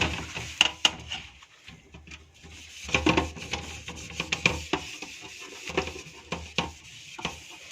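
Scrubbing on a metal kitchen chimney filter comes in short rasping strokes and scratches with a few sharper clicks. The strokes are uneven and fairly close, with pauses between them.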